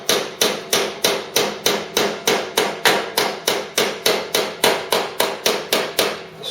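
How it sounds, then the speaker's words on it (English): Steady hammering on a Ford Cortina GXL body panel under restoration, about twenty sharp metallic blows at an even rhythm, close and loud with nothing else heard. "So we'll just hammer those in."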